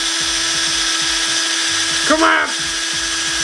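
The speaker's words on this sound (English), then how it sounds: "We made it all the way through with the drill." A power drill bores through a piece of material at close range, its motor whine rising briefly in a strained burst over constant background noise while a person shouts excitedly.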